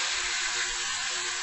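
Water poured into a hot pan while cooking moo goo gai pan with carrots, giving a steady, loud steaming hiss and sizzle that runs unbroken through the whole short moment, with no voices.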